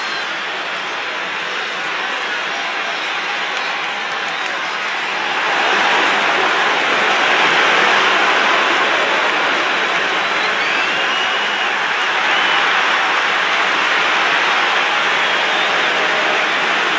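A dense, roaring arena crowd in the WWE 2K25 wrestling video game cheers continuously at a WrestleMania face-off between The Rock and John Cena, swelling louder midway and holding a steady wall of noise.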